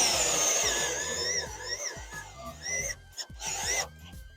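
A power drill whirs in short bursts, its pitch wavering up and down as it drives a self-drilling, self-tapping screw into a crosskart nerf bar, with faint background noise.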